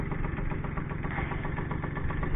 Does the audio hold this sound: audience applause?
no